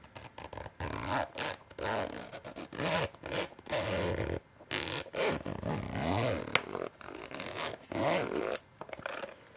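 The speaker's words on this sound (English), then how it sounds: "I'm just gonna zip this back up." A zipper on a carrying case is drawn closed in a run of short, close, scratchy pulls with brief pauses between them, and no voices are heard.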